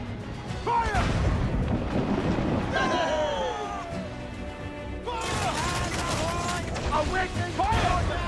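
Ship cannons boom in a naval battle in Assassin's Creed Black Flag, with heavy blasts, crashing impacts and rushing sea and wind. Voices shout over the din.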